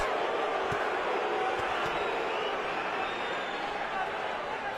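Boxing arena crowd at the Pacquiao vs Marquez fight, a dense, constant roar of many voices with a few sharp thuds, steady and loud throughout.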